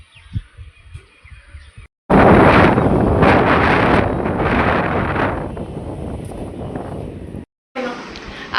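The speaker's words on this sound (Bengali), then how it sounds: "হাওয়া দিচ্ছে।" Wind blowing outdoors in a quiet open setting, heavy gusty buffeting across the microphone that starts suddenly after a quieter opening and then eases, with a person speaking near the start.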